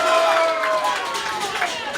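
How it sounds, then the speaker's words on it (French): A crowd applauds at a JCW wrestling match right after a fallaway slam. The applause is a diffuse, moderate wash of clapping and crowd noise heard underneath a commentator's continuous talking. "oh, les applaudissements de la foule ici"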